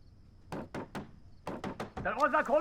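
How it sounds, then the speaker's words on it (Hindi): A door in a Hindi-dubbed kung fu action film is knocked on with two quick runs of firm raps, about seven in all, close and clear, before a voice starts talking over the end. "अरे हुजूर, कब से खटखटा रहे हैं?"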